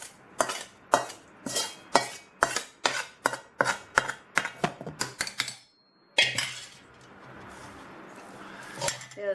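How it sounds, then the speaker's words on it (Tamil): Tempering poured into kodo millet sambar rice and mixed in a pot: a fast run of loud, sharp spoon-on-vessel knocks and clinks, a brief pause, then a softer scraping, stirring rush. "இப்போ பார்த்தீங்கன்னா நான் தாளித்து வச்சுருக்கதை இப்போ ரைஸில் கொட்டிடுறேன்."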